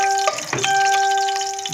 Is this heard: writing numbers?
no